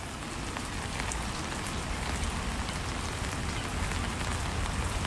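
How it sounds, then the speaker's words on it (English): Steady rain pours down outdoors, a continuous dense hiss of drops pattering on surfaces with no break or voices. "It is raining outside"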